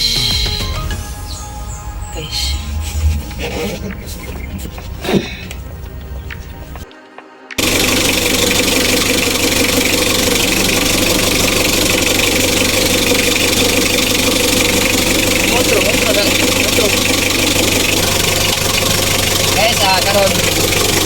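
Mitsubishi L300 with a 4D56 diesel engine, its radiator leaking and mildly overheating, idles with a steady, dense rumble after quieter handling sounds and a brief dropout, running continuously close by with some speech mixed in.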